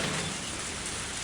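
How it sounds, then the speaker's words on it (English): Rain falls steadily in the visual novel Higurashi When They Cry Hou, a brief, even hiss of downpour with no voices. "This sudden rain has us in a bit of trouble."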